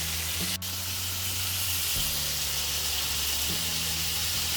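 Minced beef sautéing for a kheema curry gives a steady, close broadband sizzle and hiss, with a low hum underneath and a faint click or scrape of a utensil now and then.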